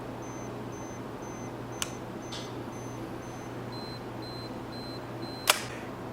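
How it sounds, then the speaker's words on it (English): An Olympus OM-4 SLR self-timer counts down in evenly spaced electronic beeps, ending in a sharp mechanical shutter click, with a faint earlier mirror lock-up click and a low steady hum. "Mirror will lock up, this will count down, and then it will take a picture in a moment or two."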